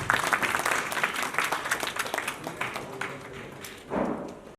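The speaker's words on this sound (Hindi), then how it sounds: "तालियां जोर से" A short burst of applause at a family-awareness camp session in Haridwar as a teacher is called to the stage, scattered claps fading and then a brief louder swell near the end.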